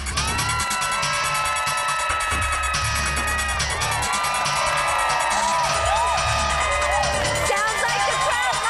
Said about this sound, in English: Sounds like the crowd likes what they see.